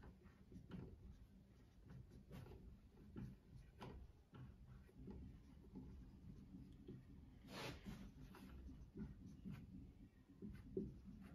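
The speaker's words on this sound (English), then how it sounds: "I'm trying to write a little bigger." Pen or marker writing by hand on a surface during a programming lesson on abstraction in Java, a steady run of soft scratchy strokes with small taps, close and fairly quiet with no talking.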